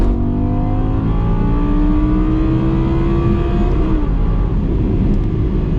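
An Audi R8 V10 Spyder accelerating hard on the road to overtake other cars, its engine note climbing steadily and loud and close throughout, then easing slightly near the end.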